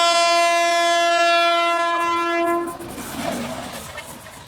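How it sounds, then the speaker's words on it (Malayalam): A Rajdhani Express train passes close by, its loud sustained horn blaring for over two seconds before cutting off into a rushing rumble and clatter of wheels on the rails. "സോ ഫൈനലി നമ്മുടെ രാജധാനി ട്രെയിൻ നമ്മുടെ ക്രോസ് ചെയ്ത് പോയിരിക്കുകയാണ്."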